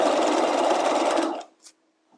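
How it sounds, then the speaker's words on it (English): A sewing machine runs steadily while stitching the side seams of garment facings, a loud continuous whir that stops abruptly, followed by a couple of faint clicks. "And I'm sewing the side seams of my facings right now."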